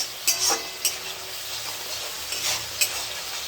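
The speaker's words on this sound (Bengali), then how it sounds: "পেঁয়াজটা একটু ভাজা ভাজা করে নিই মশলাটাকে ভালো করে কষে নেওয়া হয়েছে জল তেল ছেড়ে আসছে" Onion and spice masala frying in oil, a soft continuous sizzle up close with a few sharp scrapes of a spoon stirring the pan.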